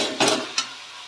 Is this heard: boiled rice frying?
yes